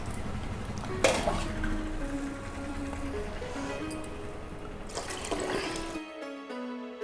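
Water pours steadily into a cooking pot of fried mutton and spices for pulao, a continuous splashing gush that keeps on for several seconds and ends with a brief clatter.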